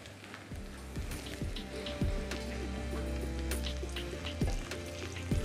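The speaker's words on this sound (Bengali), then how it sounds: "যখনই দেখবেন এরকম এই চটচটা আওয়াজটা আসবে তাহলে একদম রাইসটা পারফেক্টলি ফ্রাই হয়ে গেছে" Rice frying for hilsa pulao, crackling and popping in a hot pan with a soft continuous sizzle and scattered sharp ticks, close but fairly quiet.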